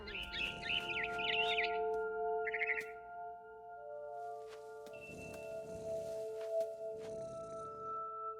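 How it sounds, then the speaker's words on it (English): In What Remains of Edith Finch, a barn swallow gives a quick run of bright, warbling chirps at the start, fairly close, over a quiet musical backdrop, then falls silent as soft rustling follows. "Then I heard chirping outside my window. It was a barn swallow going back to her nest."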